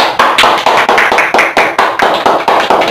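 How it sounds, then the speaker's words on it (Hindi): A single person claps hands in an even rhythm, about a dozen sharp, loud, close claps spaced roughly a quarter second apart in a quiet repair workshop, with no one speaking. "ताली हो गई"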